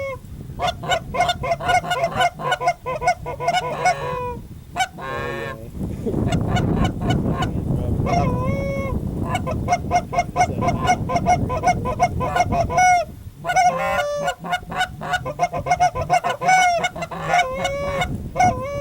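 A large flock of Canada geese honks loudly and continuously during a goose hunt in northwest Pennsylvania, many overlapping calls close overhead, with a dense rushing stretch midway and no clear talk.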